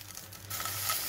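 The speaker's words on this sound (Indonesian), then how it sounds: "seperti ini sosis yang akan dimasak terlebih dahulu, dibolak-balik" Sausages frying in a pan give a steady, close hiss and sizzle with no talking.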